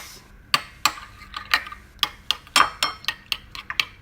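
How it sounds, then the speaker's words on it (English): Spoon clinking repeatedly against a glass or ceramic bowl while cumin powder and chili pepper are stirred into a salad sauce for iceberg lettuce salad, about a dozen sharp, close taps in an uneven rhythm. "We put a little bit of cumin powder and a little bit of chili pepper. Then we mix."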